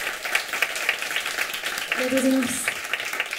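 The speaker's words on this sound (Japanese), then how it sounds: "ピアノサポートの河村さんに大きな拍手" At a birthday live concert at Higobashi VOXX, the audience claps steadily for the piano accompanist while a performer speaks briefly over the applause.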